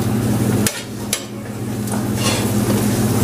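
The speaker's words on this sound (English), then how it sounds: "we're going to add about a tablespoon of butter to our pan." About a tablespoon of butter melting in a pan, the start of a red wine sauce for venison, with a loud, steady sizzle over a low hum and a few sharp knocks of a utensil against the pan.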